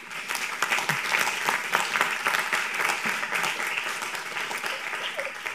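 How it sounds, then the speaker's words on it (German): Applause from an audience at a German talk on social sustainability in public IT procurement: many hands clapping at moderate distance in a lively, uneven patter, continuing steadily with faint crowd murmur underneath. "Applaus bitte nochmal."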